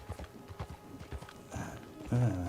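Horse hooves clip-clop in Red Dead Online in a steady, moderately close rhythm, building into a louder, denser stretch near the end.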